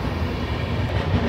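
Bhubaneswar–Howrah Jan Shatabdi Express in motion, a brief steady rumble of the train running with a low rolling drone and no voices.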